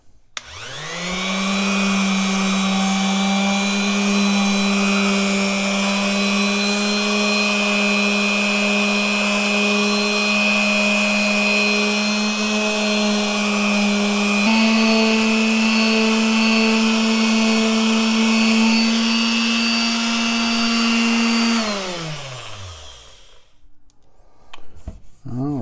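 A power sander running on a guitar body finish during a kit build, a steady loud electric whine with a strong hum that shifts pitch slightly midway, then spins down and stops near the end.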